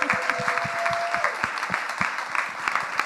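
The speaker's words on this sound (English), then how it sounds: "a big round of applause." A crowd at an event on the state of Black America applauds a business owner, steady clapping with some sharper individual claps standing out, fairly close.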